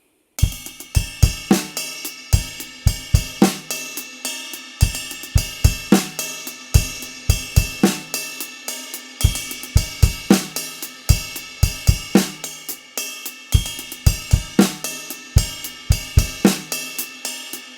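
A drum kit plays a steady groove built on hand-to-hand doubles with diddles, crisp close strikes in a tight repeating pattern with regular low kick hits and no talking.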